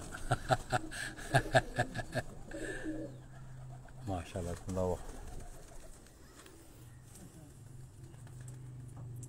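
Pigeons kept by a breeder in New Mirpur, Gujrat coo in soft repeated bursts, mixed with short speech and some chuckling sounds in the first half. The cooing then fades into a quieter, steady background.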